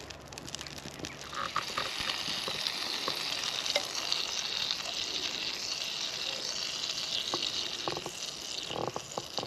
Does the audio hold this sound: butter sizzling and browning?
yes